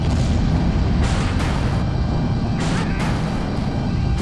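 Imperial units in a Star Wars strategy game fire weapons in a dense barrage, a continuous, loud rumble of booms and blasts with sharp bursts of cannon fire at a close distance.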